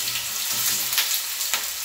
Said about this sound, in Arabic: كديرو هاد البطاطا، كتشدو البطاطا كديروها في